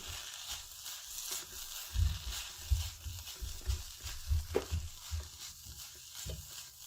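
Chicken keema being stirred and fried in a pan after garam masala goes in, with soft scraping strokes and a low sizzle repeating in an uneven rhythm, close and fairly quiet.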